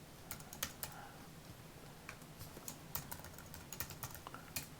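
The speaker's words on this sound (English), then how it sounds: "It would help if I typed correctly." Fast typing on a computer keyboard while entering an SQL database table, a steady run of light, close clicks with short pauses, over a faint background hum.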